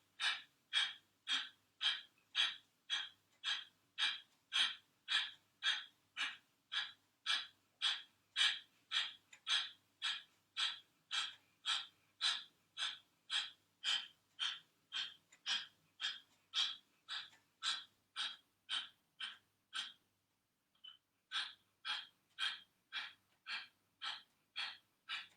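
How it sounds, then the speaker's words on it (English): Kapalabhati yoga breathing, a rapid, even series of sharp nasal exhales, about two per second, close and clear, with a brief pause near the end before the pumping breaths resume. "Your Kapalabhati breathing, here you take a breath, inhale, and then sharp exhales through the nose"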